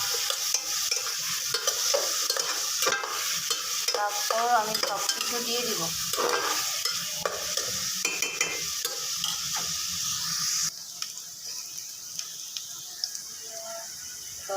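Sliced onions fry in oil in a pan with cinnamon, cardamom, bay leaves and potatoes, a steady sizzle with stirring scrapes and clinks close by, and a brief spoken line over it.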